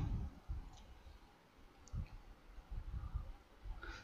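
Several faint computer mouse clicks, spaced irregularly, during a Yellow Fever vaccination online booking. They sound soft and close over a quiet room hum, with no voice present.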